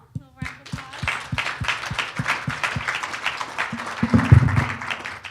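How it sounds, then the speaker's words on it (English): Audience applause at a consumer-focused conference session, a dense wash of many hands clapping that swells toward the end, with a few sharp low taps at the start and some voices mixed in. "A little round of"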